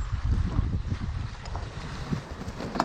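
Wind blows across a sailboat in the Indian Ocean, a low rumbling buffet of gusts against the microphone that is steady and close, with no voices.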